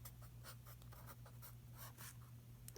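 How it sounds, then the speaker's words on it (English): Pen writing Korean words by hand on paper, quiet close scratchy strokes in quick irregular bursts. "I'm gonna write."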